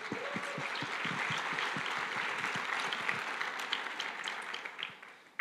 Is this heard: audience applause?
yes